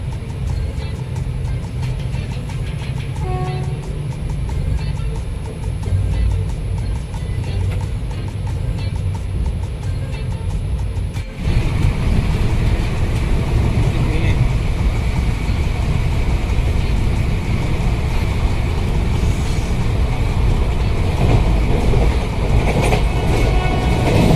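An overnight passenger train bound for Mumbai runs along the rails, a steady close rumble with clattering wheels that grows abruptly louder and harsher about halfway through, with no voices.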